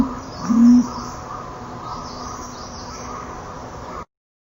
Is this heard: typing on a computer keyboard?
no